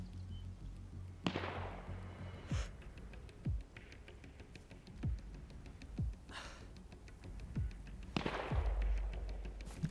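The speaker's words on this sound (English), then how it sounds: "Oh, shooting." Gunshots in the survival video game DayZ, several sharp cracks spread across the stretch, some near and punchy, others distant with echoing tails, over a low steady background hum.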